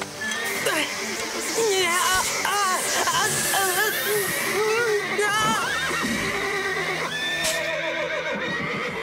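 Panicked horses neigh and whinny loudly and repeatedly in a barn-like setting, the shrill calls overlapping in a chaotic stretch, with hissing and some hoof clatter beneath and voices occasionally mixed in.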